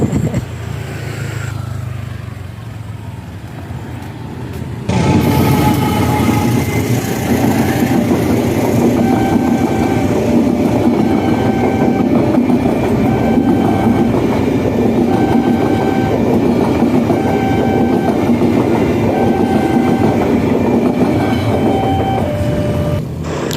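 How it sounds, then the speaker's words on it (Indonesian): A train rumbles past close by at a level crossing in Yogyakarta, loud and continuous, with rhythmic clacking of wheels and squealing tones over the heavy roar. "kali ini saya kecegat kereta api ya, sambil lihat kereta apinya ya"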